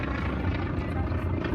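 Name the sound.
WW2 Wildcat warbird aircraft approaching at an airshow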